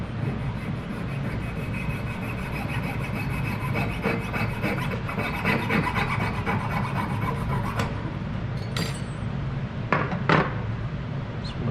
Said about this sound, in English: a trick for cutting tubing is to use a fine blade